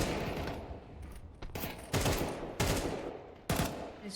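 Rapid bursts of gunfire in a competitive Counter-Strike match, several sharp clusters of shots fired near the bomb site with brief gaps between volleys.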